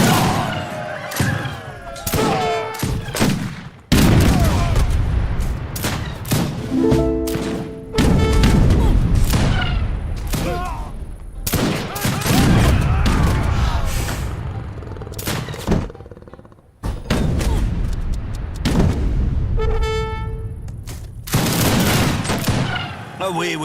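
Musket volleys and artillery fire crackle and thud repeatedly through an Age of Empires 3 battle, loud overlapping bursts rising and falling with unit voice calls and brief speech scattered between them.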